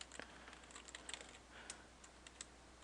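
Code typed on a computer keyboard, a quiet, close run of light key clicks at an irregular pace over faint room hiss, with no talking.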